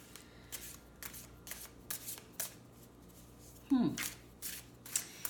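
Tarot cards being shuffled in a run of soft, crisp riffles and slaps repeating about every half second, fairly faint and close, with one brief louder rustle partway through.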